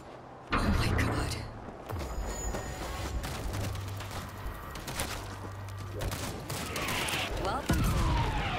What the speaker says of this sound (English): They're bombing the street!